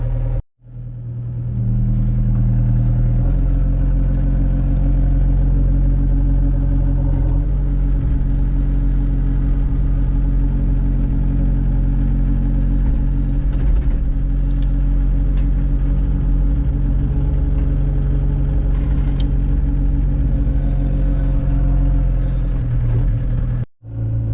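A tractor fitted with grapples rumbles steadily while loading wood onto a trailer, its engine droning at a constant low pitch for the whole stretch with slight shifts in load and no voices.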